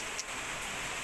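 Heavy typhoon rain pours down in a steady, dense wash of noise, continuous and close, with no voices.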